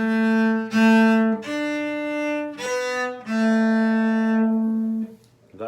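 A violin plays a waltz phrase with rushed, choppy bowing: a few sustained notes broken by abrupt scratchy bow changes, close and clear, with no talking.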